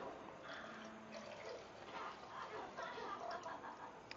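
Red wine is poured over a brisket, a soft continuous splash and trickle of liquid that runs faintly and evenly throughout.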